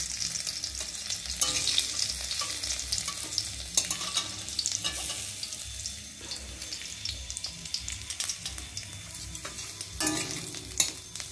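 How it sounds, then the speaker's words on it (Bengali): Water spinach greens frying in hot oil with garlic and chili, a soft steady sizzle broken by scattered stirring scrapes and clatters, close by with no talk. "এই রসুন আর লঙ্কা ফোড়ন দিয়ে শাকটা ভাজবো"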